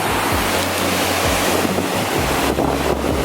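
Loud surf rolls and crashes close by on the coast of Mexico, with heavy wind buffeting the microphone throughout.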